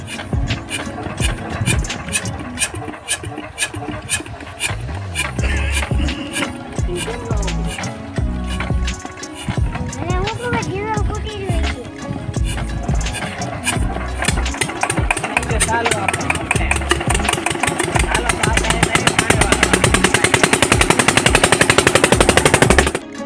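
A new farm irrigation water pump engine fires up and runs with loud, rapid, rhythmic chugging and rattling that grows steadily louder toward the end.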